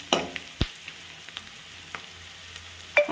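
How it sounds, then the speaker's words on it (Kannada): Onions sizzle in hot oil, with soft crackling and a few stirring clatters and spoon knocks at intervals, close and moderately loud, no voices. "ಈರುಳ್ಳಿ ಚೆನ್ನಾಗಿ ಎಣ್ಣೆಲೆಲ್ಲ ಹುರ್ಕೊಂಡು"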